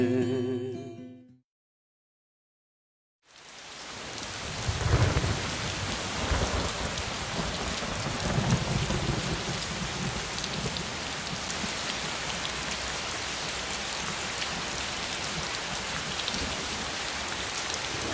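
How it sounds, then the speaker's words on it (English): Heavy rain pours down steadily for a long stretch, with low rumbling thunder rolling beneath the dense hiss; a short burst of music fades into near silence before the downpour begins. "it started raining, and rained heavily for 24 straight hours"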